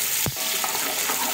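Onions fry in hot oil in a pan for chicken masala pulao, a steady close sizzle with one sharp spoon knock near the start as they are stirred.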